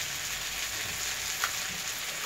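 Malabar spinach frying with cumin powder and salt in a pan, a steady close hiss of sizzling oil throughout with a faint stir at one point.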